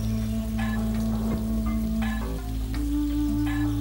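Steady rain falls through misty forest in the Anamalai hills of southern India, a dense, even patter that runs the whole time with a low sustained tone underneath.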